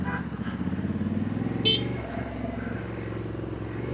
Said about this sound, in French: J'ai mis un coup de klaxon sans faire exprès.